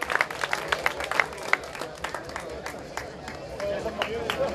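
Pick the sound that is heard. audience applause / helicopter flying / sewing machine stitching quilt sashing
audience applause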